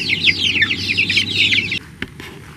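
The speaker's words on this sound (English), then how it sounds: "Are we crazy enough to have chickens in the front yard and a lamb in the front yard?" Several chickens cluck and squawk in a homestead front yard, a busy overlapping chorus that stops abruptly, followed by a faint sound or two.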